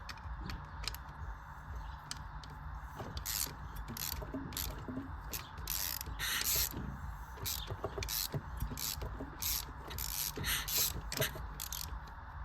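Honda XL185 four-stroke engine is turned over by hand, giving repeated close mechanical ratcheting clicks and clanks in uneven bursts, with faint background murmur.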